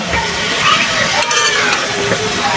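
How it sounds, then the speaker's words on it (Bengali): Chili flakes stirred into a vegetable bhaji frying in a pan, a loud close sizzle with scraping spoon strokes and small clicks. "এখন এটাকে ভালো করে মিশিয়ে নেব।"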